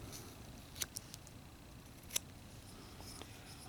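A knife trims a small wooden figure whittled from a one-inch block, making a few faint, sharp scraping clicks spaced out over quiet background hiss, close by, with no talking.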